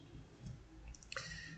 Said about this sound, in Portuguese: dá dois cliques em cima